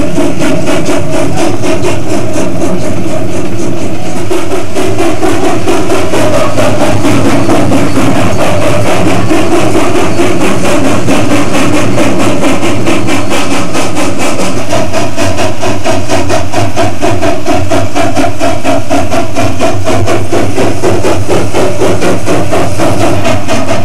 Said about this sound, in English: Another Rio Grande Southern train is upgraded on Dallas Divide with engines 42 and 40